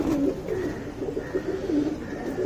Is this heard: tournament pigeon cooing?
yes